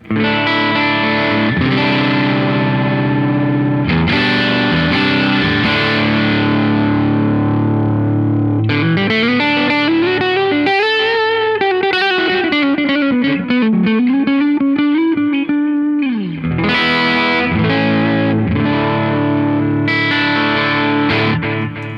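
Overdriven electric guitar played through a Marshall Studio Classic SC20H amp, loud distorted chords and a sustained bending lead line with a short gap near the end.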